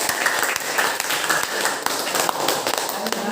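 Audience applause at a cupping (bekam) training session, a dense steady patter of many hands clapping throughout, fairly close and continuous with no pause.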